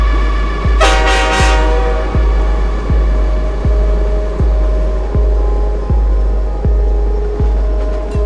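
A train horn blares loud and close as a sound effect inside a Dutch hip-hop track, a couple of sustained blasts near the start over a steady thumping beat and dense music that runs throughout.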